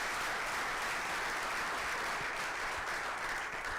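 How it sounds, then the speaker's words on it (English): Sustained applause fills a school board meeting hall, a dense, steady wash of many hands clapping at once, loud and unbroken throughout. "you can tell by the applause that"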